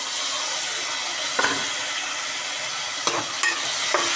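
Potatoes sizzle steadily in a hot pan on a home stove. Several brief scraping stirs of a spoon cut through the constant frying hiss, close and clear with no talk.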